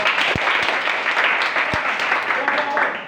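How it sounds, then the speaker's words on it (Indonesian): A classroom group gets a short burst of clapping from students, dense and lively, with a few sharp individual claps standing out near the start and middle, all in about three seconds. "aplaus dulu untuk kelompok"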